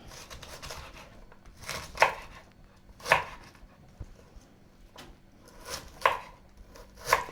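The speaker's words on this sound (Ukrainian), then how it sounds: "Цю капусту нарізаємо." Knife chopping a kilogram of cabbage into small squares for a salad, a few sharp, separate cuts against a board, close and clear over quiet room noise.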